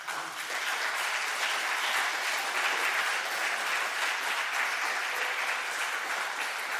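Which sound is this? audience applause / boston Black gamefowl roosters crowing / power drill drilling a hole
audience applause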